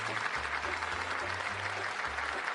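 Thin, scattered clapping spreads through the audience at a film press conference for Animal World, soft and patchy against a low background hum.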